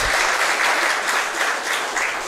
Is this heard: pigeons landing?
no